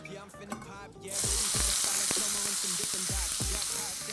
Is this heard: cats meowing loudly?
no